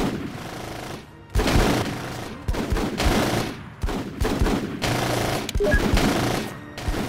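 Bursts of heavy automatic gunfire and explosions from the squad combat game Full Spectrum Warrior: Ten Hammers, loud and close, broken by short pauses between volleys.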